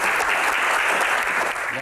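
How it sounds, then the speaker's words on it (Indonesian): Audience applause at an evening Q&A event, a dense, steady wash of many hands clapping loudly throughout with no pauses. "Kita berikan tepuk tangan."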